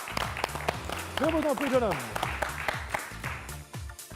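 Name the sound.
studio audience applauding the guest Bilal Ghazi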